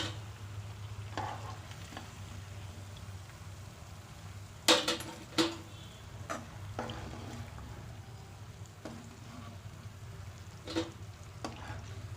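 Banana bonda balls frying in hot oil in a home kitchen, a steady soft low sizzle running throughout with occasional clinks and scrapes of a utensil lifting them out.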